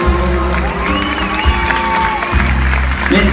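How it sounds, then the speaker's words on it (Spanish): An audience applauds and cheers after a romantic song at a live performance, loud clapping mixed with crowd shouts and whoops, while music or singing carries on underneath. "Y el aplauso."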